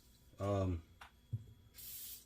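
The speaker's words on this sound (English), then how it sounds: "Yeah, I spray everything down with WD-40." A voice speaks briefly, then a short burst of WD-40 aerosol spray hisses near the end, bright and steady for about half a second, while cleaning and lubricating a Garcia Mitchell 306 fishing reel.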